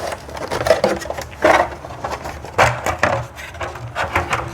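Small screws being unscrewed and lifted out of a car headlight housing to free a piece from the lens, a few close, sparse clicks, taps and scrapes of plastic and metal.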